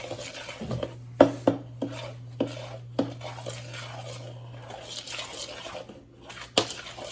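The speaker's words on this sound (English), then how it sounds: "Start stirring it up." Banana bread muffin batter of margarine, sugar and eggs being stirred in a bowl, with irregular clinks and knocks of the spoon against the bowl over a steady low hum; no talking.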